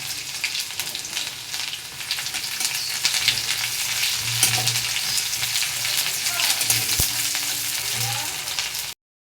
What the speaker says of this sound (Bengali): তো পেঁয়াজটা ভাজা ভাজা হয়ে গেছে।